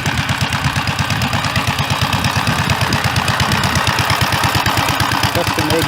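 A Gravely tractor engine with a custom exhaust pops in a fast, even rhythm, each exhaust pulse loud and close for the whole stretch.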